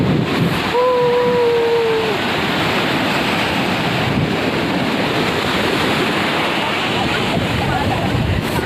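Sea waves roll and wash steadily along the seashore under a constant wind, a dense broadband roar that never lets up, with a brief voice-like tone early on and people occasionally audible over the surf.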